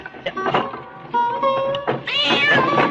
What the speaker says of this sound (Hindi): देख तो बिल्ली रास्ता काट गई